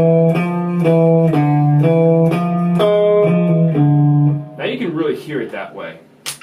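A harmonic major mode phrase with a sharp fifth, a short run of clear pitched notes on an instrument, followed by someone talking.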